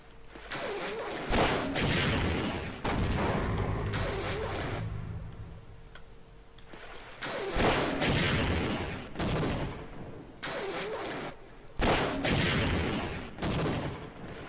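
Gunfire from a gun in Half-Life: loud bursts of rapid shots and impacts in several clusters separated by brief quieter gaps, close and harsh, with no voices.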